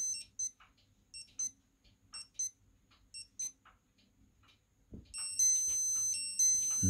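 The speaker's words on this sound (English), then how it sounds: "Top right tests the alarm." A small electronic alarm on a Rotary Chronograph G3031 wristwatch chirps in quick repeated double beeps, then shifts to a continuous high beeping pattern near the end, close and clear.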